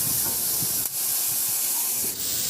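Pork liempo sautéing with onion and tomato in a pan, a steady loud hiss and sizzle throughout with faint stirring scrapes and two brief dips.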